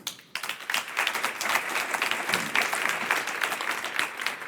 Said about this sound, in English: Please help me to give them a warm applause.